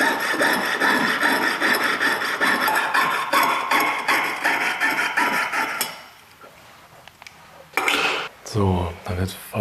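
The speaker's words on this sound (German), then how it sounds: "dann wird weiter gefeilt. Der Gusskanal wird ein bisschen abgenommen weiter." Hand filing on a cast fountain pen cap, taking down the leftover casting channel: rapid, steady rasping strokes for about six seconds, then a quieter pause before a few louder scraping strokes and handling knocks close by.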